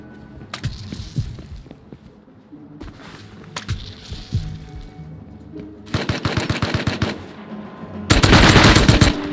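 M92 machine gun fire in the survival video game Rust, several bursts of rapid automatic shots, some distant and some close, ending in a loud sustained volley.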